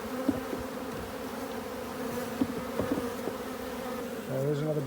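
Honey bees buzzing around an open hive built into a flat roof, a steady droning hum close by with occasional louder passes of individual bees.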